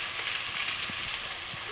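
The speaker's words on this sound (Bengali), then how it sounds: "এবার একটা একটা করে মশলা দিয়ে দেবো" Ground cumin, coriander and Kashmiri chilli powder sizzle in hot frying oil for dum aloo masala, giving a steady, even hiss with faint crackles, close and continuous.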